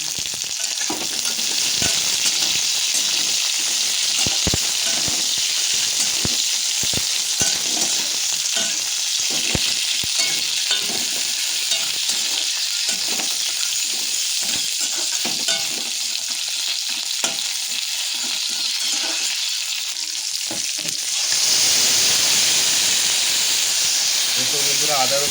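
Crab and crab claws hiss and sizzle loudly in a pan with onion and oil, a long steady frying roar broken by stirring clatter and pops, then easing toward the end.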